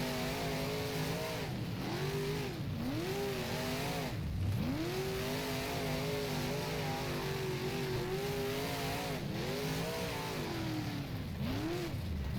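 A 358 modified race car engine from the rFactor racing game revs and drops through the gears on a dirt track, a steady buzzing drone that rises and falls with throttle, with a brief tire squeal, sitting at moderate volume throughout.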